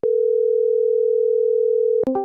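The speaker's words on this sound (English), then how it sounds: "the fucking fraud department is just giving them phone call after phone call, with Celestia just leaving that to hit voicemail." A steady, loud single-pitch telephone tone hums for about two seconds from a call going to voicemail, then cuts into a brief burst of higher beeping tones at the end.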